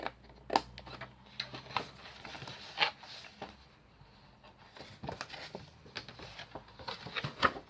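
Scissors cut paper for a handmade Easter card, with close, irregular crisp snips and rustles spread through the clip, some louder sharp cuts among softer paper handling.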